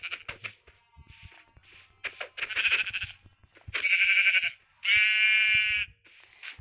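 Sheep in the Minecraft video game bleat repeatedly, several nasal calls of varying length spread across the stretch, close and clear with game sounds between and no talking.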